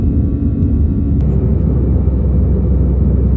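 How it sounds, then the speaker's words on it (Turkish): An airliner lands on the runway on arrival in Rome, heard from inside as a steady, loud, low engine and rolling rumble that fills the whole stretch with no talking. "Şu anda arkadaşlar uçak indi. Pistteyiz."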